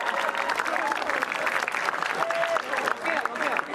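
An audience at an Indonesian stand-up comedy show claps for a comedian, dense applause filling the room throughout, with a voice speaking over it.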